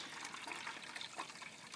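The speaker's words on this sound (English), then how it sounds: "This is the initial drain off of your wort" Wort draining off from the mash during all-grain homebrewing of a scotch ale, a steady quiet trickle and splash of liquid running continuously close by, with no talking.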